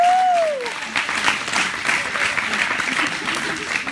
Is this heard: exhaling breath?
no